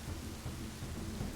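Rain pours and thunder rumbles as an ambient effect in a narrated game, a steady low-pitched wash with deep rolling rumble, quiet and continuous.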